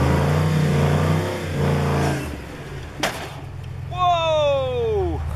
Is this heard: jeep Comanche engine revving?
yes